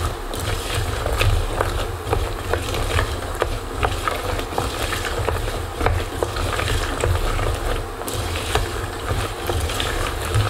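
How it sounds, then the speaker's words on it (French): Homemade praline mixture being stirred in a pan as it begins to seize and crystallize gives a steady gritty scraping and sizzling texture with frequent small clicks, close and continuous. "Il suffit de mélanger."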